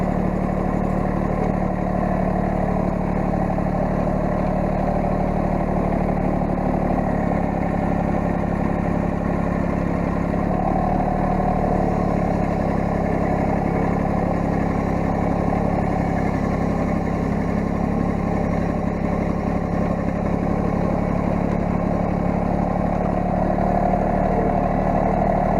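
A tractor engine runs steadily and loudly at close range through the whole stretch, a constant rumbling drone with slight shifts in pitch and no voices.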